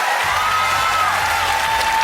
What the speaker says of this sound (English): Even the choir are cheering up.